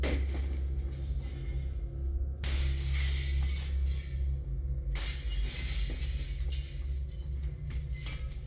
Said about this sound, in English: they would begin to hear actual glass shattering